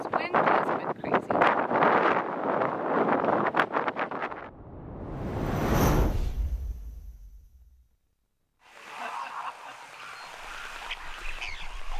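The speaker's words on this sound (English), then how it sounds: "That wind sounds quite hectic." Strong gusty wind roars across an outdoor microphone, broadband rumble swelling and buffeting for several seconds, briefly dropping out before resuming, with some speech-like noise and faint bird calls mixed in.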